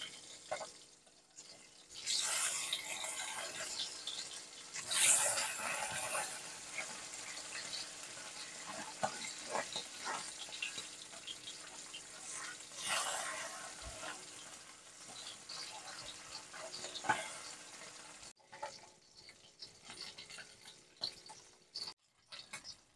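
Bata fish pieces turned onto their second side keep frying in mustard oil in a wok, giving a steady, close, crackling sizzle with brief louder flares and scattered pops that settles quieter near the end.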